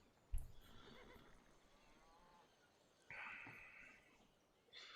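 Horses neigh and whinny in the strategy video game Civilization 5, with a sharp thump at the start followed by two drawn-out whinnies, moderately loud and clear with no talking.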